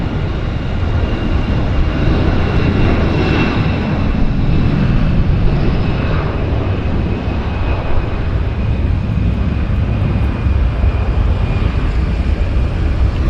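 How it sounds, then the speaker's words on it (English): An Airbus A320 passes at Vancouver airport, its jet engines giving a continuous loud roar with a steady tonal buzzsaw whine layered on top, with no talk over it. "Love the sound, that buzzsaw sound of the engines."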